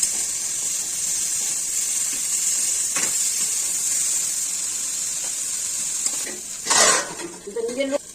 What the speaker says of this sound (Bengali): এখন আমি একটু বেগুনটাকে ঢেকে দিচ্ছি, খ্যাট করে বলছি